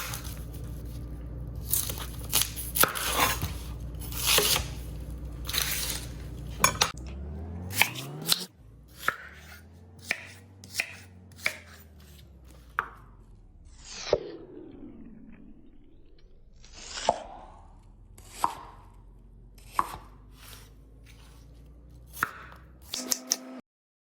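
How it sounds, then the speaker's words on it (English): Onion, carrot, celery and garlic are chopped with a knife on a board for a lamb shank dish: quick bursts of rapid chops at first, then slower single cuts spaced a second or two apart, close and clear with no talking. "I'm just doing a quick chop on these vegetables."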